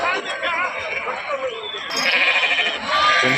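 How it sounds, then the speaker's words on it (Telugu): Several sheep bleat close by amid the busy, noisy crowd of the Gudur sheep market, with overlapping voices and general market chatter. "గొర్రెలు చూడండి ఈ గొర్రెలు"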